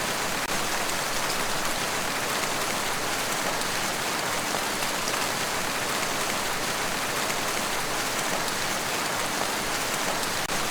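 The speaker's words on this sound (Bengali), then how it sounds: "বৃষ্টির শব্দে চারদিক ঢেকে গেছে" Steady rain pouring down at night, heard from a boat on the water, a dense continuous hiss of drops with no voices, even and unbroken throughout.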